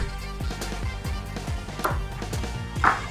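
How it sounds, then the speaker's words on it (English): A knife chops tofu on a cutting board in a steady, even series of close, crisp thuds. "Chop it up a little bit."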